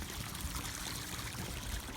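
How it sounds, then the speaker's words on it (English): Water pours steadily into a low backyard swimming pool from a hose, a constant close rushing and splashing wash with no break and no voices. "your pool is very low on water, so I'm gonna add water to it"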